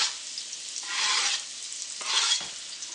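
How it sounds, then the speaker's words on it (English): Chopped onion sizzles in hot oil in a pan, a steady close frying hiss that swells in bursts as it is stirred around, with no voices. "And you can already hear it sizzling."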